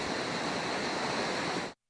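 Floodwater rushes along a normally dry creek swollen by days of nonstop rain, a dense, steady roar of churning water close by that holds at full strength and then cuts off abruptly.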